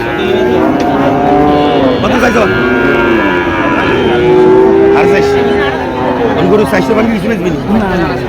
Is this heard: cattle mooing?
yes